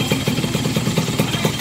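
A Yamaha F1ZR motorcycle engine revs loud and close in short rhythmic bursts with a rough, throbbing mid-range tone, heard alone without voices.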